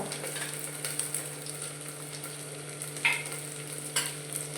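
Onion, garlic and masala stirred and fried in a pan for a Maharashtrian rajma masala rice dish: steady soft sizzle with scraping stirs and a couple of sharper spoon clinks, close and continuous, no talk.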